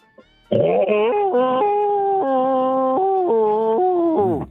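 A person's voice imitates a long, mournful bloodhound howl, rising and falling in pitch over several seconds, loud and close, ending in a sliding whimper.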